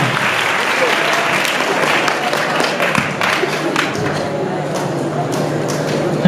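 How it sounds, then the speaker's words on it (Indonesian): Classes 4 and 5 of an Islamic primary school get a big round of applause after a grammar debate; dense, lively clapping from a crowd of students holds steady throughout, with voices underneath. "sekali lagi minta tepuk tangannya untuk kelas 4 dan kelas"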